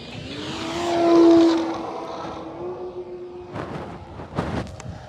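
A 58-inch Hangar 9 P-47 Thunderbolt radio-controlled model plane takes off on its maiden flight with takeoff flaps deployed. Its steady motor whine swells loudly, then fades as it moves away, followed by a few rougher gusts.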